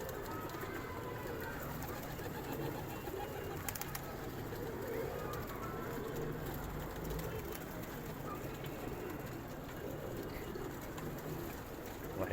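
Grizzle and Nors breed pigeons coo softly amid a dense, steady background hum in a loft setting, the low cooing faint but continuous, with no clear talk.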